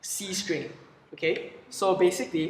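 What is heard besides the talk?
No distinct noise like a dog, phone or traffic.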